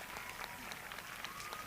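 A crowd at the opening of a BMX championship in Rotorua applauds the volunteers, a faint, distant patter of clapping that carries steadily through the whole short stretch.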